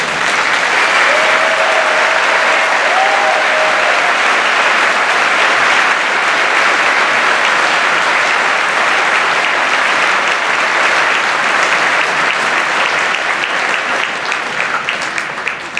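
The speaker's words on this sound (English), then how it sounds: "Please let us applaud the outstanding accomplishments of all of our doctoral candidates." A large audience at a university graduation ceremony in an arena applauds steadily and loudly for about sixteen seconds, the clapping dense and sustained without letting up.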